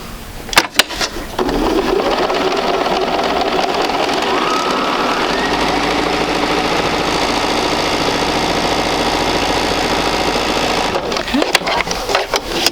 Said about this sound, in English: And I'm going to sew right down on it.